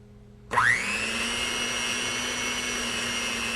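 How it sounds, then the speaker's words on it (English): An inexpensive Walmart blender switches on abruptly and settles into a steady, high-pitched whirring drone as it mixes a powdered solution, close and continuous with no talking. "We're going to start to blend it."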